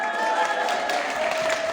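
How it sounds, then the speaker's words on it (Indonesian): Applause from a women's religious gathering audience in Hong Kong, a brief burst of dense clapping mixed with crowd murmur, steady and fairly close, with faint tones sounding beneath it. "Kau usah tepuk tangan"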